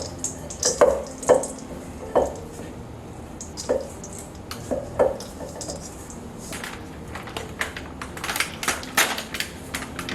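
White chocolate chips are worked into cookie dough by hand, giving scattered soft crunches, clicks and squishy pats, irregular and close, with a denser flurry of crackling toward the end.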